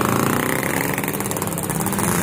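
A Yamaha RX King two-stroke motorcycle with a modified, bored-out exhaust revs in the rain, its steady loud buzzing engine note rising with the RPM, sustained and close throughout.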